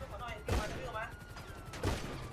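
Gunfire in GTA V, bursts of shots around the half-second mark and again near the end, loud and close, with voices talking over the game audio.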